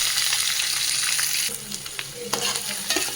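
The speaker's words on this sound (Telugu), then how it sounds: "ఆయిల్ వేడైనాక ఉల్లిపాయ ముక్కలు వేస్తాను" Onion pieces frying in hot oil in a pan for Andhra-style pandugappa fish curry, giving a loud, steady, close sizzle throughout with occasional stirring scrapes and knocks.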